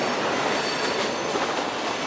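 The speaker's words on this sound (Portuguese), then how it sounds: "Esse trem é o famoso espanhol." A Spanish-built CPTM passenger train passes close by at Lapa station, a loud continuous rail roar with wheel and track noise filling the whole stretch and no voices.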